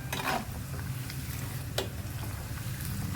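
Anchovies crackle and sizzle steadily as they fry in oil in a wok, a close, continuous hiss with scattered pops and a few stirring scrapes.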